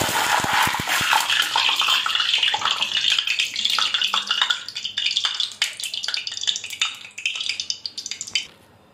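Loud, steady crackling sizzle of hot oil spitting after a light splash of water hits it while cooking handi gosht, with sharp pops and bursts throughout before it fades out.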